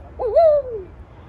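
A person imitates an owl call, voicing a single short hooting, rising-then-falling whistled note that sounds close and clear against a quiet background.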